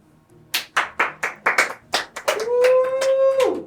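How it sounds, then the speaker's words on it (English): A small audience at a mock courtroom show clapping, a few separate claps that grow into a short burst of applause, close and loud, with a voice rising over the end. "Please don't clap for the defendant."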